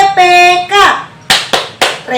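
A Tepuk PPK routine from an Indonesian classroom lesson: a voice first, then three sharp, loud claps in a quick rhythmic pattern, close by.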